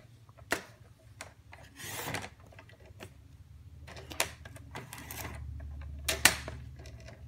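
A paper trimmer slices through cardstock for a layered handmade card: soft clicks and light taps around a quiet scraping slide of the blade, close and low in level.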